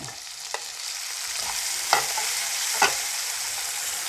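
Chopped tomato stirred into onions frying until reddened, with a few sharp clinks of a spoon against the pan over a steady low sizzle, close and fairly quiet, no voices.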